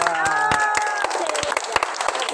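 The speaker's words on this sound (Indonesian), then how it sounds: "Tepuk tangan untuk Bapak Nurul dulu." An audience applauds a man after a demonstration of the tutuhao musical instrument, sharp scattered claps near and loud, with a few lingering tones fading underneath.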